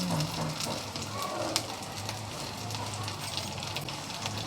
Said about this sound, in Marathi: तर आता सध्या ते फ्राय होऊन राहिले।